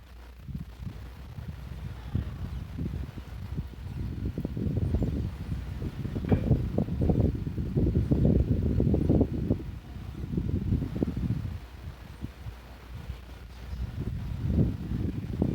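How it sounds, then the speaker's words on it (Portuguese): Strong wind with heavy rain gusting outdoors, a low rumbling buffeting that surges and eases in waves, fairly loud with no voices. "Bastante vento."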